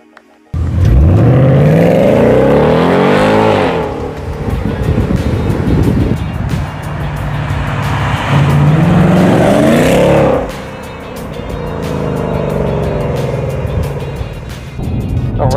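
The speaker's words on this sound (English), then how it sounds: "the very first thing you notice, even when you start the car, is of course that big 5-liter V8" A 2024 Ford Mustang GT's 5-liter Coyote V8 fires up and revs loudly, then roars through several rising and falling acceleration sweeps while driving, with a deep, rumbling exhaust close by.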